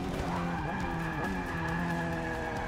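Formula race car tires squeal and skid in the Forza 6 video game, a continuous loud screech over a droning high-revving engine throughout.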